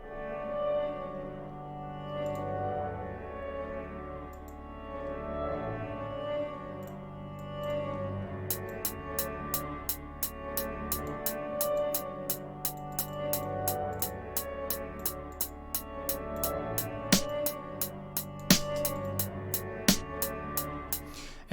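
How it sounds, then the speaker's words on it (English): A music track washed in big room reverb: sustained, droning chords play alone at first, then a steady run of sharp, evenly spaced percussive clicks joins in and keeps a regular beat to the end. "Big room reverb sounds like this."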